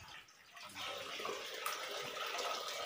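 Water gushes and splashes steadily at the source of the Godavari in the Brahmagiri hills, a soft, continuous outdoor flow that briefly eases before settling into a constant stream.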